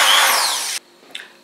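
A corded electric drill bores into ceramic with a loud, close, high whining grind for under a second, then stops abruptly, followed by a brief faint clink.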